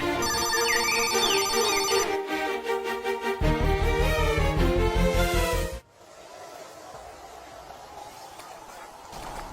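A phone ringtone plays a bright repeating electronic melody with steady pulses for several seconds, then cuts off abruptly, leaving quieter room sound.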